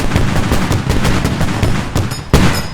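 Tank cannon firing a sabot round in an armored combat video game, loud continuous battle noise with repeated gunfire bursts and a sharp heavy boom near the end.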